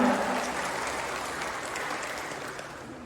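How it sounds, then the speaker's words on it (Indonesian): Indoor audience at an Indonesian scholarship information session clapping together, a dense, even wash of applause that starts at full strength and holds steady, fading slightly over three seconds. "Oke, tepuk tangan untuk kita semua."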